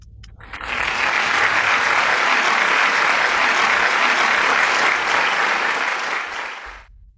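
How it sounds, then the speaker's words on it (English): A large international conference audience breaks into sustained applause to welcome a speaker, a dense, even clapping that swells in quickly, holds steady for several seconds and then tapers off. "With a big round of applause, let's welcome Dr. Deanna R."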